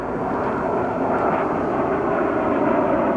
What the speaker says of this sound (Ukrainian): Перед десантуванням по умовному ворогу завдала удару штурмова авіація